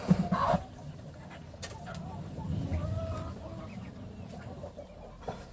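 Broody hens on a farm clucking as they settle to nest on guinea fowl eggs; a few loud, close clucks at the start, then quieter scattered murmuring clucks over a low background.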